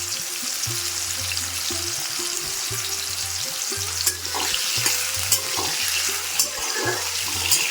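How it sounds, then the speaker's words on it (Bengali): Carrot pieces fry and sizzle in a pan while being stirred for a no-onion, no-garlic vegetarian mixed vegetable dish. A steady hiss carries scrapes and clinks of stirring over rhythmic background music. "গাজরগুলোকে ভেজে নেব"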